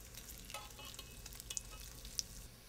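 Sliced potatoes searing in rendered bacon fat for a brie tartiflette, a faint, quiet sizzle with sparse crackles and a couple of sharp little pops, no one speaking.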